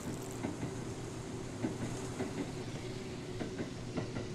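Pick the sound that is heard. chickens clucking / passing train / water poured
passing train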